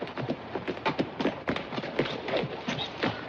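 A horse being trotted out on a western ranch, its hooves clip-clopping in a steady, quick rhythm of distinct thuds, moderately close and fairly loud, with no talk over it.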